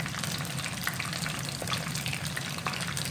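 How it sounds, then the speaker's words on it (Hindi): Chicken 65 pieces coated in cornflour and rice flour fry in hot oil, giving a steady, dense sizzle that stays even and close throughout with no voices. "उसी तरह ही बाकी चिकन भी जो है हम सारा का सारा फ्राई कर लेंगे"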